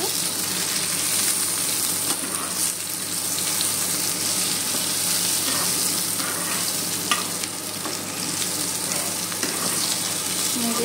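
Nigella seeds and four green chillies sizzle loudly in oil in a frying pan, a steady close frying hiss with stirring scrapes running throughout.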